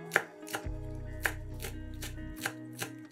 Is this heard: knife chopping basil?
yes